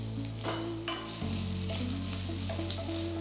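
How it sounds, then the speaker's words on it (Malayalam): Onion and ginger sauté in oil in a pan for a Drums of Heaven dish, a steady soft sizzle with a few stirring scrapes, close and unaccompanied by speech. "നമുക്ക് ഇച്ചിരി സവോളയും കൂടെ ചേർക്കാം."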